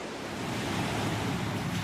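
Steady broadband roar of ocean waves and surf breaking along the New Jersey shore, continuous and fairly loud with no voices.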